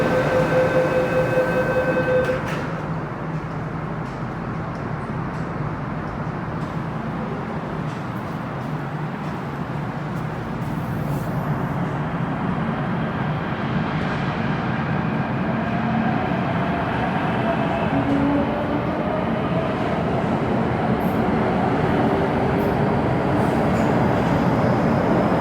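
A Hong Kong MTR train at Quarry Bay Station's platform rumbles steadily and loudly throughout, with a faint squeal and chime early on before a sustained rolling roar of the cars.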